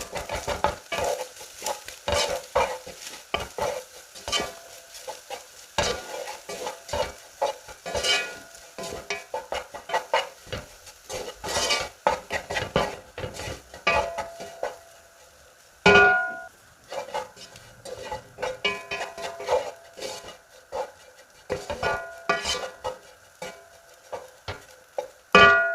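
Chicken samosa filling with green chillies being stirred as it cooks in a pan, a long run of irregular scraping and knocking utensil strokes over a faint sizzle, with a brief quiet pause midway.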